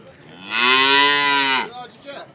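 A single cow moos loudly and close at a livestock market in Osh, one long drawn-out call that fades into quieter background noise.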